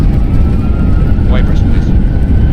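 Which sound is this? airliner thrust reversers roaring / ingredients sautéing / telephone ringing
airliner thrust reversers roaring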